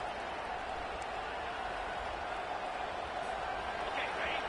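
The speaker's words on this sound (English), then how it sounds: "This crowd, full throat, splitting the eardrums and letting them know it's going to be a long day." A packed stadium crowd at a college football game roars in a dense, unbroken wall of sound, loud and steady throughout with no clear breaks.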